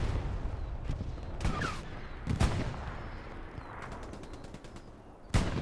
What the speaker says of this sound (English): Artillery's also landing.